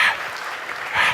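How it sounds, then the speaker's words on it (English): Conference audience applauding a speaker at a PHP event, a brief, steady burst of many hands clapping in a hall, moderately loud and without talk. "Can we have an applause for Marco? Louder!"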